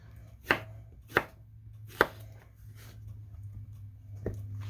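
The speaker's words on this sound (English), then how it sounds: "So these guys, I just cut into rounds." A knife slicing squash into rounds on a cutting board, three sharp evenly spaced chops followed by a fainter fourth after a pause, close and distinct over a low hum.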